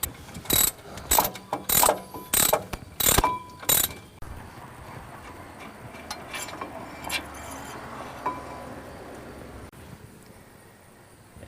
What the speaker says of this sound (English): we must remove these 2 bolts first and remove the mounting bracket